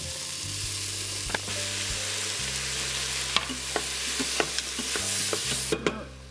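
Chopped tomatoes sizzle in a pan with ginger and aromatics for a ground beef murtaba filling, over a low steady hum, as a spoon stirs and taps the pan several times, the taps growing busier toward the end.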